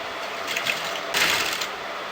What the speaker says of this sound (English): so now I'm going to sew on the exact line